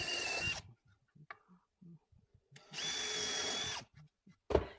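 Power drill driving exterior screws into wood on a flip-top cart build, two close, loud whirring bursts with a rising pitch, separated by quiet handling knocks and ending with a sharp clunk.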